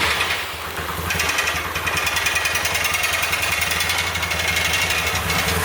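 The engine of an abandoned Nissan S14 Kouki runs loud and close just after starting up, a rough, steady idle with a rapid rattling pulse and no talk.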